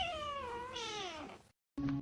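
A cat gives one drawn-out, wavering meow close to the microphone. It ends abruptly in a brief silence, and a short different sound follows.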